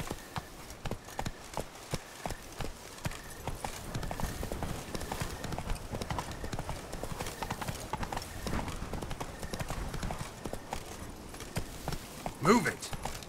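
Hooves of the horse Roach clip-clop in rhythmic, close strides through The Witcher 3: Blood and Wine, the quick footfalls continuing steadily with brief voices and a short whinny-like sound near the end.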